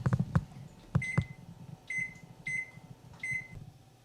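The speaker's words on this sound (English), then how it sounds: "I'll cook them for another 20 minutes" Baked apples cooking in a microwave oven, a low humming whir under a few short clatters at the start, followed by a run of repeated high electronic beeps at fairly even intervals.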